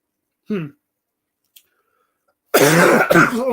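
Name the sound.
coughing fit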